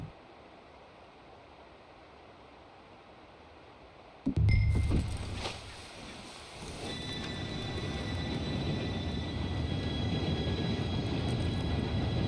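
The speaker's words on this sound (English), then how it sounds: "Train should be here any minute now." A train in Red Dead Redemption 2 rumbles in after a quiet stretch, a sudden loud burst giving way to a steady, building roar of rolling wagons and faint metallic ringing.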